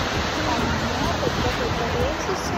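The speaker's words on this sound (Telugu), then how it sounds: "పెద్ద వేవ్స్ వస్తున్నాయి." Big ocean waves break at a rocky beach in Pondicherry, a loud, steady broadband surf roar filling the whole stretch without a break, with a voice talking over it.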